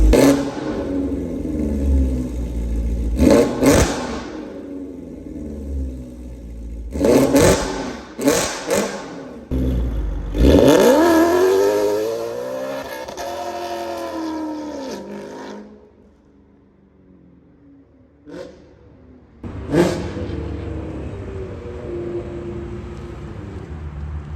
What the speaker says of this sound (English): now we're gonna give it some proper revs and see how it sounds